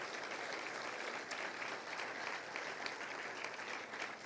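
Steady, dense applause from a large church congregation during worship, sustained and even throughout without letting up.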